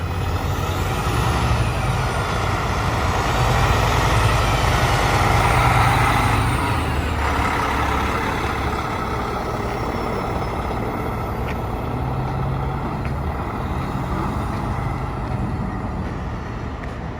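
A Peterbilt 389 day cab truck with a Cummins engine drones loudly from inside the cab on a test drive, a steady heavy rumble with road noise that swells briefly, then holds even, with no talking.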